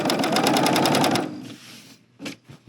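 A serger runs along a fabric edge, its knife trimming as it stitches: a loud, fast, steady mechanical rattle for about a second, then it stops, leaving faint handling noises and a soft thump.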